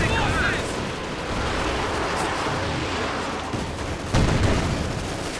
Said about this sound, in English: Conscripts get caught by the machine guns and a nearby sniper rockets flying in